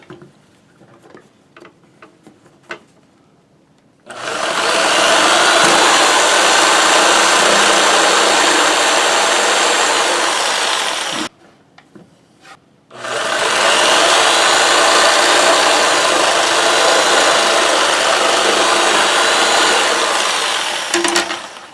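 A power saw set to low aggressiveness cuts slots in half-inch plywood for a marten box, two long, loud, steady cutting runs of about seven and nine seconds, separated by a brief pause with light handling clicks before and between.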